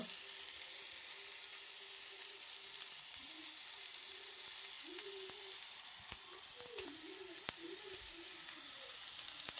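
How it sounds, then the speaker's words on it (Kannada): Dry fish frying over a low flame for a Kannada side dish, giving a steady, even sizzle throughout with a few faint tonal squeaks and light clicks, no voices. "ಇನ್ನು ಹೀಗೆ ಒಂದು ಐದು ನಿಮಿಷ ಸಣ್ಣ ಉರಿಯಲ್ಲಿ ಫ್ರೈ ಆಗಿಟ್ಟಿರಬೇಕು"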